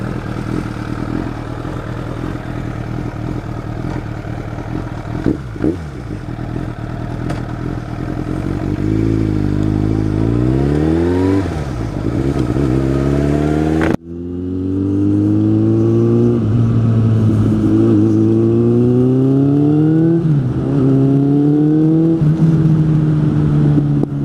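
A Suzuki GSF 600 N motorcycle engine revs hard while riding, climbing and dropping in pitch through repeated throttle blips, with sharp popping backfires; loud, close and continuous, with no voices.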